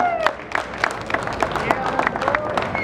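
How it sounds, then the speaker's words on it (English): Audience claps for MotoGP rider Nicky Hayden at a Long Beach show, scattered, uneven applause with crowd murmur and voices talking over it. "Round of applause, everybody"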